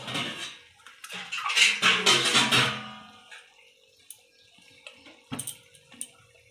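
Water splashes and pours into a pan of Bengali doi katla, a katla fish curry with yogurt, in a loud rushing burst of about three seconds, followed by quieter kitchen clatter and a few sharp knocks.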